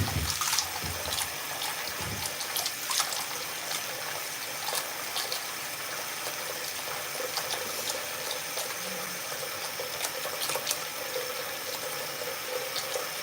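Cold tap water runs steadily into a sink, a continuous broadband splashing hiss that stays even throughout with no talking over it.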